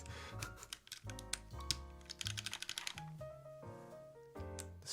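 Rapid clacking keystrokes on a mechanical keyboard fitted with GMK Muted keycaps, with uneven bursts of close, crisp taps and some springy ringing between presses.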